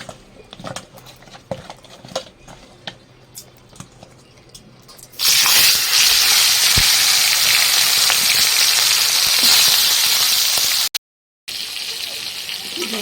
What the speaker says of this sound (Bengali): তেল গরম হয়ে গেছে কড়ায় এখন মাছটাকে নুন হলুদ মেখে ছেড়ে দেবো